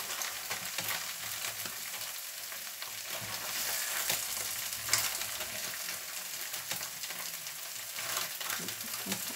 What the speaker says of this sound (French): J'essaie de tourner mon poisson.